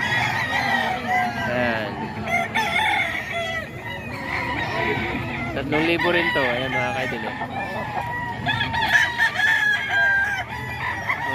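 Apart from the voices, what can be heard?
stag rooster crowing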